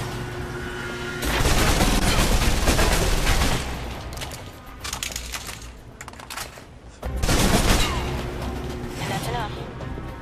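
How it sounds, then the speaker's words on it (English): Submachine gun fire in the video game Alpha Protocol, loud rapid bursts fired close in three long volleys with short gaps between them, with a voice talking over parts of it. "Now for your submachine guns. If you're trapped in close quarters with multiple opponents, the SMGs can help clear the room quickly."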